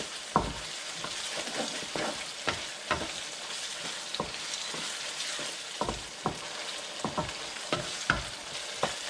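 A spoon stirs Filipino pork picadillo, ground pork with sauce, in a pan, with soft repeated scrapes and knocks over a steady low frying sizzle, close and unhurried, with no voices.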